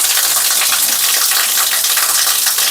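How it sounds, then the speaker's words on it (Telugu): Close, continuous splashing of water running from a Nandi statue's mouth at a temple spring, a loud even rush with no break. "ఇక్కడ నంది నోట్లో నుంచి నీళ్ళు వస్తూ ఉంది చూడండి"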